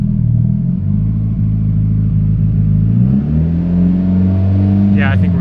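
A rebuilt Mitsubishi Evo engine is held at steady high revs during break-in, its loud humming drone stepping up and down in pitch. A faint click is heard near the end.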